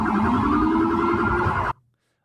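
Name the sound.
police SUV approaching protesters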